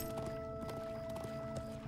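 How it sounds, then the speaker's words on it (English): A pony with Dwarven-style gear trots in Lord of the Rings Online. Its hooves clip-clop in a steady, even rhythm over a constant background hum. "Oh, that's a pony, okay."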